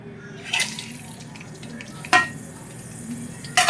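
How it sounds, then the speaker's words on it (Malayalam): Grated coconut fries in coconut oil for a Kuttanad-style pork fry, a soft, close sizzle broken by a few sharp scraping stirs of a spoon across the pan. "ആദ്യം തേങ്ങ ഇട്ട് വറുത്തതിന് ശേഷം നമുക്ക് കടുക് പൊട്ടിക്കാം"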